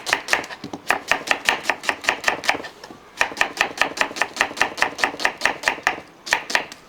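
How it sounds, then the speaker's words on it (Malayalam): Onions chopped in bulk on a board for a large beef curry, rapid, even knife strikes in bursts separated by short pauses, close, crisp and loud, with no talking. "ഈ സവോളയൊക്കെ ഒന്ന് അരിഞ്ഞെടുക്കട്ടെ"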